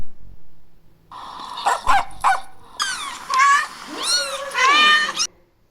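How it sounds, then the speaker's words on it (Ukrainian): A cat meows several times in rising, wavering cries, mixed with short barking yelps, close and fairly loud against a quiet background. "Так, вірно, це котик і песик."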